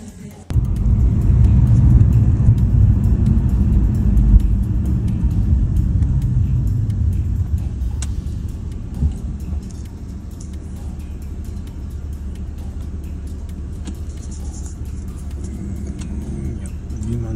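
A BMW E46 330i with an SMG automated gearbox and faulty gear-detection sensors being driven, giving a steady low engine and road rumble from inside the cabin that eases slightly partway through.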